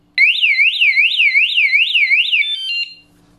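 An Antusi A8 bike taillight anti-theft alarm blares alone and close, a loud, piercing warbling electronic tone that sweeps up and down in rapid repeated cycles for about two and a half seconds, then changes to steadier beeps before cutting off.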